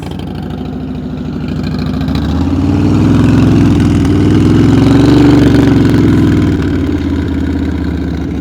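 A motorcycle engine at a slow speed riding practice session runs close and steady, swelling as the throttle opens and holding a higher revving drone before easing back down.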